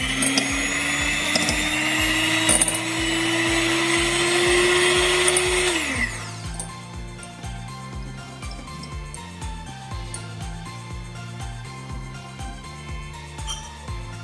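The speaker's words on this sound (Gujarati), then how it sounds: "હવે આને વિસ્કરની મદદથી હું એકદમ સરસ વિસ્ક કરી લઈશ." A milk mixture for an eggless, cream-free no-cheese cheesecake is whisked with a steady, loud mechanical whir for about six seconds. The whir then cuts off and is followed by quieter, evenly spaced tapping.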